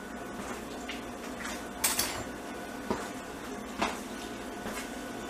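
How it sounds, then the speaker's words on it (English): Quiet kitchen clatter while fetching a fork from a drawer, with a few sharp metallic clinks and knocks of cutlery rattling against each other. "let me get a fork"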